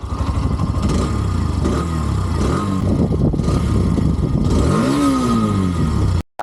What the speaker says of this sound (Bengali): বাইকটা কিন্তু স্টার্ট হয়ে গিয়েছে তো এই যে সাউন্ডটা এখন ইঞ্জিন সাউন্ডটা কিন্তু দেখতে পাচ্ছেন